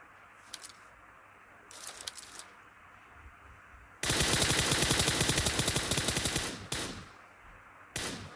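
Gunfire rattles out in the mobile game BGMI during a fight around apartment buildings. A few short bursts come first, then a long, loud automatic burst of rapid shots, then one more brief volley near the end.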